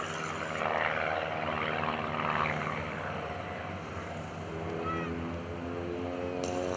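An aerobatic propeller airplane flies at the 2011 Greenwood Lake Airshow, its engine giving a steady droning hum at moderate distance that swells and eases slightly, with no talk over it.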